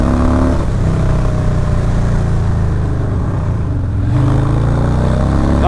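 A 2020 Harley-Davidson Low Rider S with a Stage 1 setup pulls hard, its engine droning loud and close with rising pitch through a gear change under wind rush.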